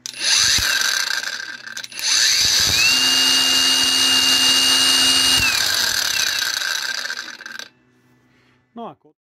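Cordless Parkside and Einhell angle grinders whine loudly at high speed, one grinder's tone rising in pitch then falling, before the motor cuts and the unbraked disc spins down; silence follows with a brief click.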